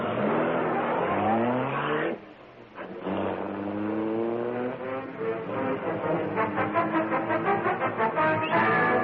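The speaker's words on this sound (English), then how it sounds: "The great car roared into life." A radio-drama effect of the Black Beauty car's engine roaring to life and speeding away, a loud, sustained droning roar that dips briefly, then swells and pulses as the car accelerates off.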